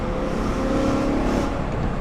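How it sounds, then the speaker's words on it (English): A BMW S65 V8 fitted with a Valvetronic Designs valved sport exhaust, valves closed, gives a smooth, fairly loud and reserved engine drone with a steady rumble throughout. "And with the valves closed, still you get a nice sound out back."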